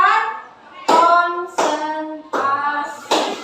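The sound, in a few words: class clapping a rhythmic clap pattern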